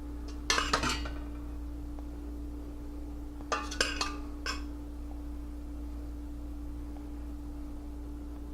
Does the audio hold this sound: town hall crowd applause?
no